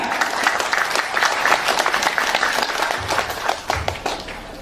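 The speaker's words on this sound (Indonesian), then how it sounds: "Tepuk tangan" An audience at an Indonesian Islamic religious lecture breaks into applause, a dense burst of clapping that slowly thins out toward the end.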